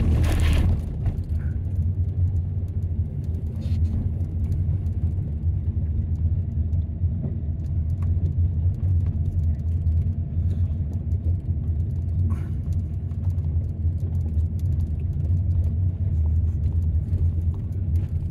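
A campervan descends a steep mountain pass in low gear, its engine and road noise forming a continuous low rumble heard from inside the cab, steady for the whole stretch with no talk.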